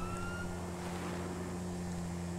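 A faint, distant police siren wails in the background over a steady engine hum and road noise, with no talking, in the video game GTA V.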